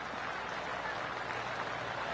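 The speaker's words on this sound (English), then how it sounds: "Oh, golf clap." Spectators give a soft golf clap at a par-4 tee after a long 3-iron shot, a faint, steady patter of polite hands lasting about two seconds with no voices.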